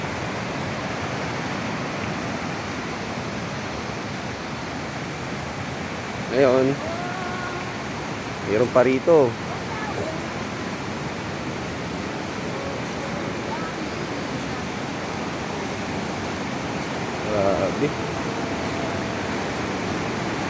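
Steady broadband rush of a river fed by water from Kanlaon, flowing continuously and fairly close, with a few brief voices speaking over it.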